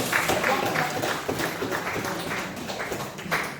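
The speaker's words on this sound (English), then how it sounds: "give her a round of applause" A congregation at a Methodist church harvest service gives a round of applause, uneven, moderately close clapping with separate claps standing out from a soft crowd background.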